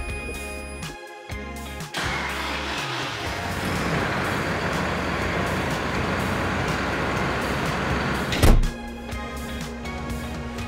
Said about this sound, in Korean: 이번에 시동을 한번 걸어서 문을 닫아볼게요